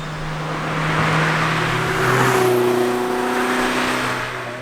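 A Toyota MR-S engine-swapped with a 2ZZ engine revs up and accelerates, the pitch climbing and shifting between gears, loud and close throughout with no talking.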